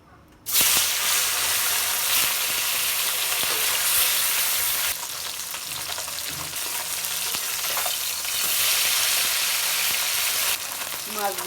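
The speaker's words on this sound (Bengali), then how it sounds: "এবার আমি মাছ ভেজে নেব।" Fish frying in hot oil in a pan: a loud, continuous close sizzle and crackle that swells and eases slightly over its length, with no talking.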